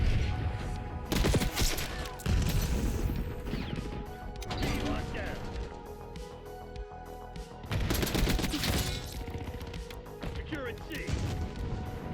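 Tanto .22 submachine gun fire in a Black Ops 6 multiplayer match, rapid loud bursts layered with explosions and game effects, with a player talking over the action.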